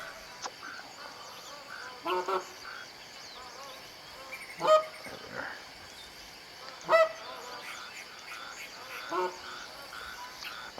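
Magpie geese in a hunting video game on Picabeen Bay, honking calls from incoming birds over a low outdoor ambience, with two louder nearer honks standing out and a brief spoken word.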